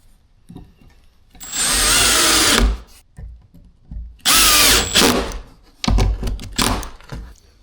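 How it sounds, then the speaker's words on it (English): A power drill drives screws through cabinet hinges on garage cabinet doors, with three bursts of high whirring, the last broken into short stuttering pulses, separated by quiet pauses with light handling knocks. "and then I just screw them in."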